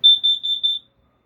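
A camper gas detector alarm emits a rapid run of four piercing electronic beeps, close and loud, followed by silence.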